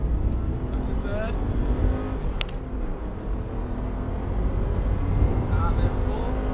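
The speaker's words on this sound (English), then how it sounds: "Now start to feed in the power. Full power. Up to third." A Subaru Impreza STI accelerates hard at full power on a test track, its engine roaring and pulling through the gears under continuous road noise, while the driver talks over it.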